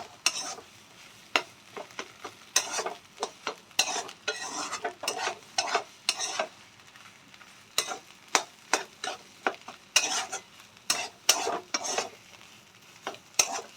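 Pumpkin chorchori being stirred and mixed in a pan: a run of irregular scraping and clattering strokes, some sharp and loud, with short pauses between them and faint sizzling underneath. No one speaks.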